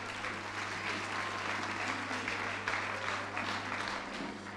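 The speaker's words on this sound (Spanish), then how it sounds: "Un aplauso." An audience at a winter fashion show applauds steadily, a sustained wash of clapping from a crowd in a hall, even and unbroken with no voices over it.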